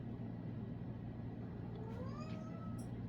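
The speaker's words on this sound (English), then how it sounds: "My cat." A cat meowing indoors, a drawn-out rising and falling call that sits faintly over a steady background hum.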